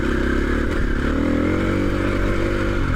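A motorcycle rides a loose gravel track on a Dales trail, its engine droning steadily and loud while stones clatter and scrape beneath the tyres throughout.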